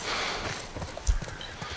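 Horse hooves in The Last of Us Part I, a short run of muffled clip-clop steps with a heavier thud midway, faint against a low background.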